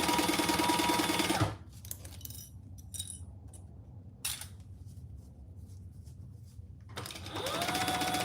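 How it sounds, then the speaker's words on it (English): A sewing machine runs steadily, stitching the top and bottom long edges of a laptop bag with a quarter-inch seam, loud and close at the start, pausing to near silence with small clicks, then whirring again at the end. "I'm just sewing the top and the bottom long edges"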